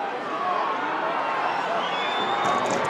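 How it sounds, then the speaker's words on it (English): A stadium crowd at a 2023 National Football League Gaelic football match between Armagh and Galway jeers a kicker, a steady, distant roar of many voices with some whistling and a commentator talking over it. "Crowd getting on his back."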